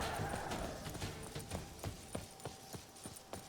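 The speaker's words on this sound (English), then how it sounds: "I can run faster than this damn horse can canter" Rhythmic hoofbeats of a horse at a canter in the video game The Witcher 3 clop steadily in a repeating pattern, clear and close with no voices.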